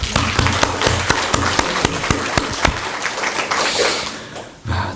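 A church congregation breaks into dense applause at a Full Gospel church dedication service, many hands clapping loudly and close, with a few sharp claps standing out before the clapping fades and then briefly picks up again.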